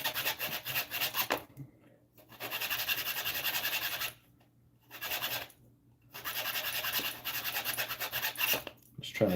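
A small hacksaw tidies up a rough cut with bursts of fast, rasping strokes, grouped into several runs separated by short pauses.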